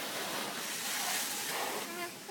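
Water spraying over a car inside an automatic car wash, a soft hissing wash with surges, heard from inside the vehicle.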